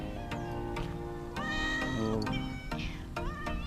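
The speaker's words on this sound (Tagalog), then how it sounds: "Daming pusa pala dito." Cats meowing repeatedly at a resort, several drawn-out cries close by over steady background noise, with a brief spoken exclamation.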